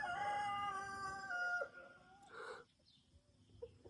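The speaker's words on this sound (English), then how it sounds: "It's a problem being next to a chicken coop." A rooster crows loudly and close by near a chicken coop, one long harmonic call held for about a second and a half, followed by a softer clucking burst and quieter farmyard sounds.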